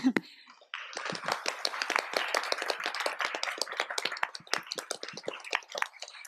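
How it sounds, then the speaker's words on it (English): After a short voice, applause for an artist at a music-theatre symposium sets in, scattered claps from a modest audience in a hall, moderately quiet and continuing to the end. "let's give the artist an applause again"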